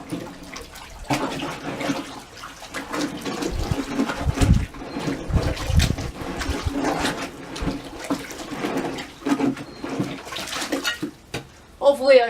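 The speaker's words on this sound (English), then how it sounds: "Got a hoe. Just going to stir it a little bit." A hoe stirs muddy water full of stones and roots, making steady sloshing and swirling wet sounds with occasional louder churning surges, close by, continuing for several seconds.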